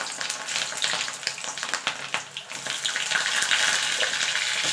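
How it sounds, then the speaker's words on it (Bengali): Potatoes frying in hot oil for a vegetable khichdi, a steady, dense sizzle and crackle that runs throughout with small bursts of popping, close and fairly loud, no voices. "প্রথমে আলুটাকে ভেজে নেবো"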